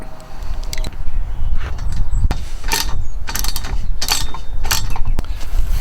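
Ratchet wrench with one extension and a deep socket tightening U-bolts on a truck bed kayak rack, giving loud, close bursts of rapid clicking, several strokes in a row with brief pauses between them.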